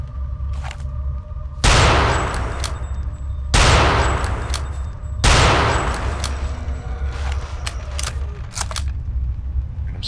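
Heavy automatic gunfire in Return to Castle Wolfenstein, with three loud bursts of sustained rapid shots crashing in over a constant rumbling game backdrop and fading between volleys.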